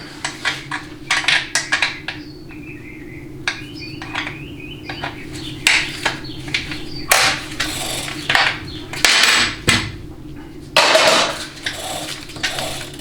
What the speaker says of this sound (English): That's the mechanical diode one-way clutch assembly at the back of the case